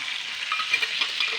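Blended spice paste frying in hot oil for chicken noodles, a steady close sizzle with occasional stirring scrapes, no voices.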